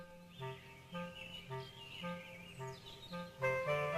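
Bird calls in a quiet setting, several short chirping notes repeating at a steady rhythm alongside faint higher twittering, moderately close with no talking.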